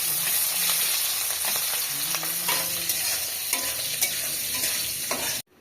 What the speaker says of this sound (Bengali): এর প্রথমে ভেজে নেবা। একটু ভাজা ভাজা করে নিই।